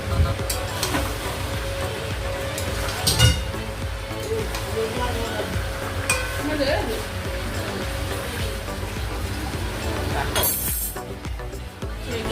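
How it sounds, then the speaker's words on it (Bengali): Chicken being sautéed in a pan for a Bengali chicken curry with potatoes gives a steady, close hiss of sizzling, with occasional utensil clinks and voices talking over it. "দেখো চিকেনটা কষাচ্ছে"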